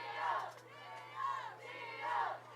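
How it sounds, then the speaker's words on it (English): A crowd at a Canton-Galva high school football playoff game against Sedan chants and roars in rhythmic swells, rising three times in a loud, sustained chorus of many voices. "As you hear the Canton-Galva crowd getting behind the defense."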